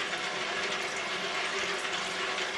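Water poured into an Omega VRT vertical slow juicer, a steady broadband rush and splash that runs continuously at an even level, with no talk over it.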